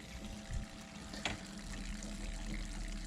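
A hose runs water into an aquarium during a water change, giving a steady close rushing and trickling wash with a couple of brief splashy bumps near the start.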